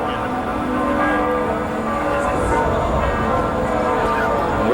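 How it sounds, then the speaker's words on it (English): Church bells ring continuously in a dense, overlapping peal in a 700-year-old city quarter, heard from some distance with a voice talking over them. "Where you hear the beautiful bells coming from."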